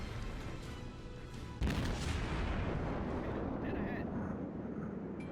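A ship's guns boom in a naval battle game as a cruiser shells from range, one sharp heavy blast near two seconds opening into a long rumbling, crackling tail over steady battle noise.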